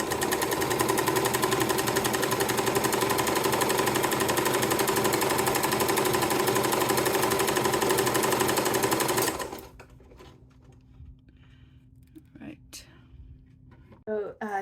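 A Kenmore 385 sewing machine runs steadily and loudly for about nine seconds with a fast, even mechanical whir. It then stops abruptly, leaving quiet room tone and a few faint clicks.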